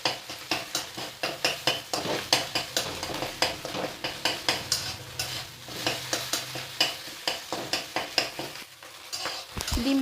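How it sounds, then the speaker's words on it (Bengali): An egg fries in a pan for mixed fried rice while a spatula chops and breaks it up, steady sizzling beneath rapid, rhythmic scraping strokes, close and loud throughout. "ডিমটা একটু ছোট ছোট করে নেব।"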